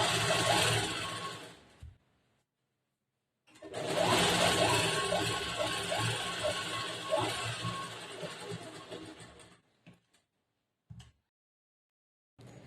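Domestic sewing machine stitching a blouse seam, running in a long steady whir for several seconds after a short earlier burst, with brief stops and restarts toward the end, close and alone.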